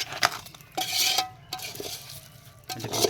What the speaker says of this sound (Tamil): நல்லா அடியிலிருந்து நல்லா கிளறி இருக்கணும் அப்போ தான் எண்ணெய் வந்து எல்லா பக்கமுமே சாரும்